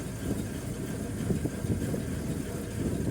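Worn rear wheel bearing on an Iveco Daily, heard as a steady low rumbling drone that holds at an even level throughout, with no talking.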